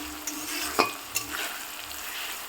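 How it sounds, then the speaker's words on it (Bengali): Spices and onion frying together in a pan for a chicken curry make a close, continuous sizzle, with light stirring scrapes and taps coming through at intervals and no talking. "এখন আমি মশলাগুলো ঢেলে দিচ্ছি।"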